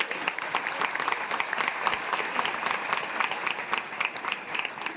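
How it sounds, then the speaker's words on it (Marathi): A hall of schoolgirls claps in sustained, dense applause at a farewell ceremony, steady and close throughout with no break. "या टाळ्या माझ्या चांगल्या भाषणाबद्दल नाहीत, त्या फक्त मॅडमांसाठी टाळ्या"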